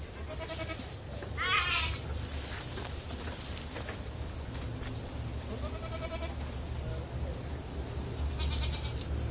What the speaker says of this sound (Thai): นี่แพะเล็มอาหารนะครับ